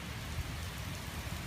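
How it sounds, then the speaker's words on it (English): Rain falls outdoors with a soft, steady patter that is faint and continuous throughout, with no talking. "all of a sudden it just started raining unexpectedly"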